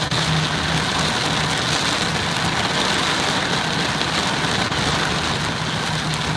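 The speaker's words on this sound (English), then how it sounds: "This should take away the sound of the rain." Steady rain falls across the whole stretch as a dense, even hiss, loud and close, with a faint low rumble underneath and no talking.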